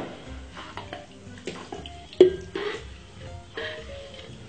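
Wet cake mixture for a Jamaican wedding fruit cake being poured into a container, with soft sloshing and dripping, a few clinks of utensils against the vessel, fairly quiet and close.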